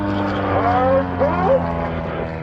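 An aerobatic propeller airplane at an air show drones steadily while flying a slow roll across the top of a loop at about 150 miles an hour, with the engine tone loud and wavering through the pass.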